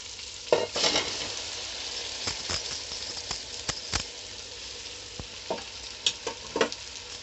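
Drumstick pickle mixture with boiled drumsticks being stirred in a frying pan, a spoon scraping and knocking in short irregular strokes over a soft steady sizzle, close by with no voices.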